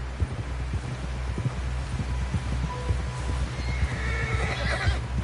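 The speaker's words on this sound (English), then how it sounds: "Someone help John down off this horse." Horse in the Red Dead Redemption 2 video game gives a whinny over a steady run of close clip-clopping hooves and low rumbling, with no voices.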